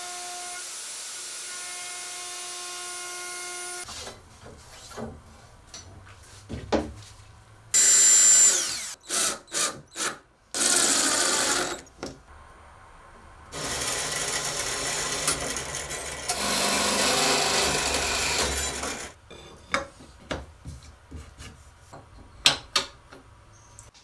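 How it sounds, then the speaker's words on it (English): A handheld router fitted with a pattern bit cuts dados into wood for T-track, running in several loud, sustained bursts broken by short pauses and sharp knocks, with no talking. "use a pattern bit in the router to route a perfectly sized dado for that T-track"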